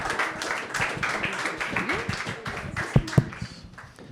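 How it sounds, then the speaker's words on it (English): Moderate applause from a small meetup audience in Lisbon for the speakers of a fireside chat, a mix of scattered claps with murmuring voices underneath, fading toward the end. "please give a round of applause to our speakers"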